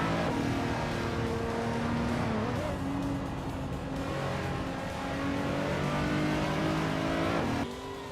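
Several race cars in a racing video game accelerate hard, engines rising in pitch with overlapping whines as they jostle for position, steady and loud throughout before a sudden drop near the end.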